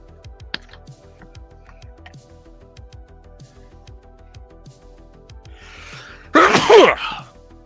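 Near the end a single loud sneeze bursts out close by, after several seconds of quiet ticking and faint room noise.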